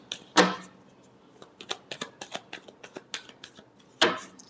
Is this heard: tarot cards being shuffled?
yes